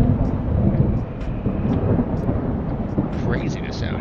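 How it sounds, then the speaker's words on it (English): Thunderstorm in the survival game Animalia Survival, a continuous low rumble of thunder with steady rain-like noise filling the background, loud and unbroken throughout. "We're just kind of waiting out the storm"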